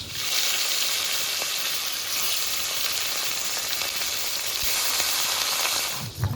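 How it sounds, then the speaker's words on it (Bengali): Catla fish pieces fry in hot mustard oil with a steady, close, dense sizzle that holds at an even loudness for several seconds, broken only by a brief clatter at the end. "মাছ ভাজাটা তুলে নিয়েছি, এবার বাকি মাছগুলো এভাবে ভেজে নেব"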